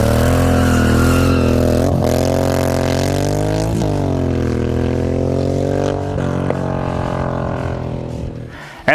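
A 2007 Suzuki Boulevard M109R cruiser motorcycle runs close by, its deep engine note rising and falling through several revs before dropping back to idle, with a sharp sound at the very end.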